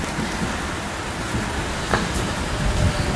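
Steady rain mixed with wind, a constant hiss of drops on surfaces with a few louder gusts and knocks, close and fairly soft, no talking.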